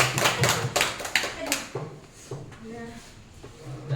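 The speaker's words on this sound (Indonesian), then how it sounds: "Tepuk tangan semuanya." A classroom group of teachers or students breaks into applause during a concentration exercise, a dense burst of many hands clapping at the start that tapers into scattered claps while people talk over it.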